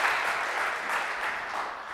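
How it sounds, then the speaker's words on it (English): An audience claps in a lecture hall, a brief, steady burst of applause with no talk over it. "A round of applause for Jonathan."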